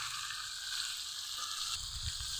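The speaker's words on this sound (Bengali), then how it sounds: "লবণ আর হলুদ দিয়ে কুমড়াগুলো কিছুক্ষণ কষিয়ে নিব।" Pumpkin pieces sautéing with salt and turmeric in a pan give off a steady, even sizzle that holds at one level throughout, with a slight low rumble late on and no voices.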